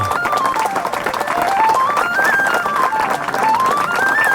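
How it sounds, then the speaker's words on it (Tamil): Schoolchildren clap together in sustained, dense applause filling a room at a school NCC selection, steady and loud throughout with a melodic tone running underneath. "கை தட்டுங்கடா"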